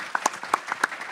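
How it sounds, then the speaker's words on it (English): Audience applause at an RTX 2015 panel: a short burst of scattered, close handclaps with no other sound over it. "let's applause for Emily"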